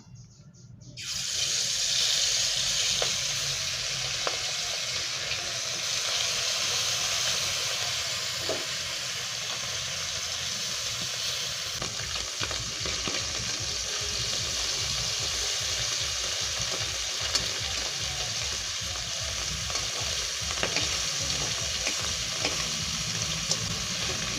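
Small fish sizzle and crackle in hot oil in a wok (kadai), a continuous close frying hiss that runs for over twenty seconds without a break.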